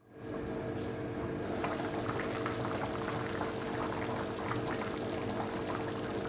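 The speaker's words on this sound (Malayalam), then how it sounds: "നന്നായിട്ട് തിളച്ചു." Meat curry for kappa biriyani, made with bone-in meat and tapioca, boils in a pot on the stove, giving a steady, dense bubbling hiss that continues without a break.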